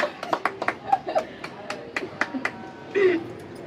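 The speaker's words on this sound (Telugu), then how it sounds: "claps claps" A small group clapping during a no-hands apple eating game challenge, a dozen or so sharp, uneven claps spread over a few seconds, close by, with a brief voice cutting in near the end.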